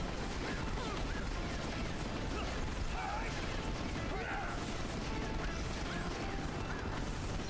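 Dense, continuous gunfire in Final Fantasy XV, a rapid stream of cracks and mechanical clatter with no pauses, under constant game noise.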